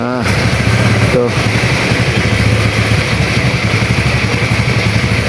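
A Honda Vario 110 scooter engine idles steadily at close range, loud and continuous throughout, with a brief dip near the start, during a charging test for a regulator fault.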